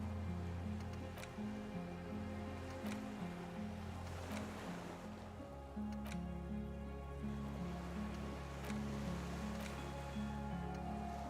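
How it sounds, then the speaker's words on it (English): Waves lap against a dock where a skiff sways in the video game Disco Elysium, a soft steady wash beneath a looping musical score with faint periodic knocks. "The skiff is swaying on the waves by the dock."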